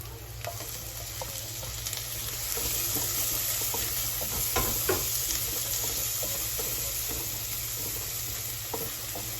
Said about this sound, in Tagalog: So medyo maputla na ang ating sibuyas, isusunod ko nang ilagay ang ating kamatis.